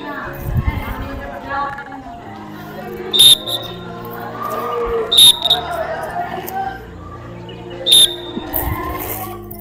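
Three short, sharp whistle blasts for a physical education exercise sound at regular intervals over the continuous chatter of a crowd of children in a large, echoing space.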